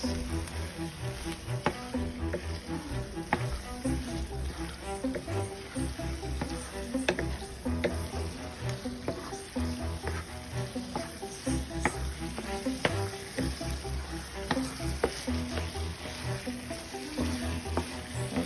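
Ground meat filling for a meat pie sizzles and fries in a pan while being stirred, a quiet steady crackle with scattered scraping clicks of the utensil, close up and without talk.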